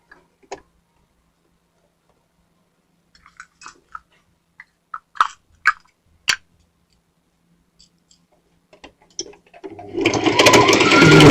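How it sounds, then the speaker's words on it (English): Soft clicks and ticks from handling a sewing machine and fabric, then the machine starts up at the very end and runs steadily for about a second while stitching a dart in a simple skirt. "we're going to get our machine, turn it on, and we're going to stitch our dart in place"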